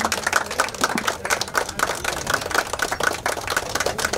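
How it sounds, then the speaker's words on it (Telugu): Dense, continuous applause from a crowd at a cake-cutting ceremony in Ongole, many hands clapping steadily and loudly without pause. "దయచేసి అందరూ గట్టిగా క్లాప్స్ కొట్టండి"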